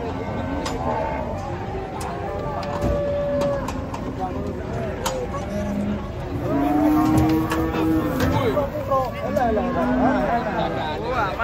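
Many cattle moo repeatedly, some close and loud, others farther off, over a busy crowd of people talking around them.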